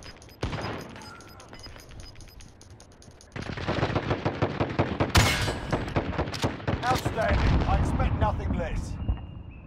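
Gunfire in Call of Duty: Modern Warfare multiplayer: a softer stretch gives way to dense, rapid bursts of shots, loud and close, with sharp cracks and overlapping volleys continuing to the end.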